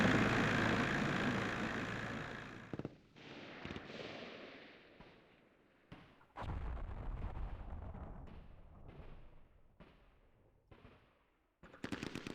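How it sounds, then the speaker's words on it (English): Artillery fire in the wargame Campaign Series Rising Sun: a loud opening barrage rumbles, then separate shell bursts and crackling impacts arrive in uneven clusters with short quiet gaps between them. "let's call in our artillery"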